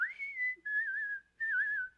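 A person whistles in imitation of a steamboat calliope steam organ, producing three sustained, wavering high notes separated by short gaps. The whistling is close and heard on its own.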